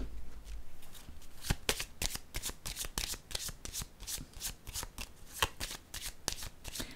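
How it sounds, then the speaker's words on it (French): A deck of cards being shuffled for a tarot-style reading, a run of crisp riffling bursts and flicks up close, repeated steadily over several seconds in a quiet room. "Je vais déposer une carte sur elle."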